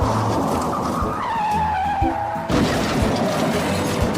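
A car comes down a road and skids hard with a squeal of tires, then a sudden break into loud, steady engine and road noise, staged as a story sound effect with no voices.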